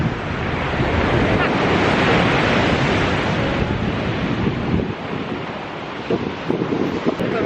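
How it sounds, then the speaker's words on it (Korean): Sea waves washing onto the shore at the coast, a loud continuous rushing surf with heavy wind buffeting the microphone, steady roar with slight swells toward the end. "바다는 언제 와도 너무 좋아요"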